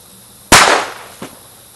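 A single sharp crack from a Walther P22 .22 pistol fired outdoors at a lidded target, loud and close, followed by a brief ringing decay and a smaller secondary impact about a second later.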